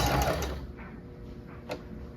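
A sewing machine stitches a gown hem at a short stitch length, a steady fast whirring hum with a small click near the end. The machine runs alone with no voices.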